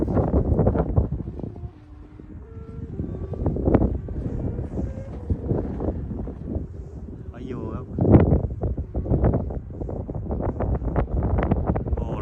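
Strong gusty wind roars and buffets the microphone at a kite flying field where a 2.10-metre kite is being launched, rising and falling in surges while someone talks over it.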